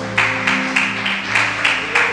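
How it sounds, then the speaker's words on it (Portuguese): A congregation at an evening men's church service claps in a steady rhythm, loud and close, the beats landing evenly over sustained keyboard or organ chords. "dar uma salva de palmas ao Senhor"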